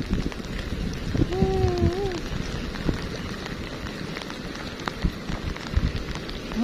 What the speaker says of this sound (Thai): ฝนก็ตกลิ้นเนาะ